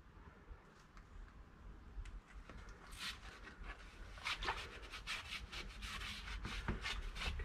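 Rust converter being rubbed onto Mercedes W166 ML350 brake parts, a soft scratchy scrubbing that grows busier and louder partway through, with repeated brisk strokes close by.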